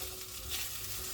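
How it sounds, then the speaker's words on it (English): Onions fry in a big pot, giving a steady, close hiss of sizzling with soft stirring and no talk. "there's that lovely smell of frying onions already"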